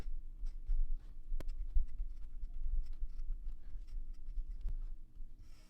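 Soft, continuous scratching of a fountain pen with a fude nib moving across paper, close and steady with faint ticks between strokes.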